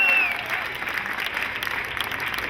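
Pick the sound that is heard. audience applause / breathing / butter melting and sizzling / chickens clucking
audience applause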